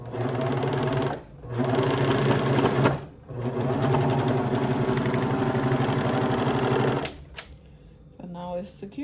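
Sewing machine stitching a toddler halter top, running in three close, loud bursts of rapid whirring stitches separated by short pauses, then falling quiet with a light handling sound at the end.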